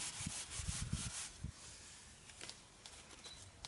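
Repair tape being smoothed down by hand on a horse blanket, a soft close rubbing and brushing with a few low thumps early on, then quieter scuffing.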